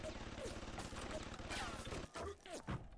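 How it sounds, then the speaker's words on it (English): Hacked machine gun turrets in the video game BioShock fire rapid, sustained bursts of automatic gunfire, loud and continuous through most of the moment, with a brief dip and a louder burst near the end. "I'm just gonna keep letting my machine guns mess these guys up."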